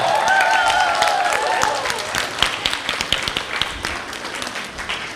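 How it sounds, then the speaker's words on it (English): Audience applause in a ceremony hall, voting for the girls' team, begins with cheering and a high whoop then settles into scattered, crisp individual claps that thin out toward the end. "So for the girl team, big round of applause, please, if you think they won."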